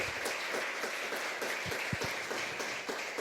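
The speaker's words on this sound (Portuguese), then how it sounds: "Aplauda o Senhor com alegria." A church congregation at a deliverance service claps in praise, a steady, moderately loud wash of applause with a few sharper claps.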